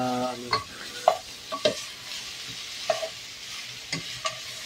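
Kaldereta with beef bones being sautéed and stirred in a pan, a soft steady sizzle broken by scattered scrapes and clacks of a utensil against the pan.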